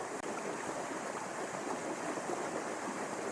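Strong rushing water current in a cartoon sea storm, a dense, steady roar of churning water that holds loud and unbroken throughout, with no voices over it.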